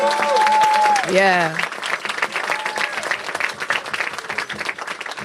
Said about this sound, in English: let's give a round of applause to Mayor de Blasio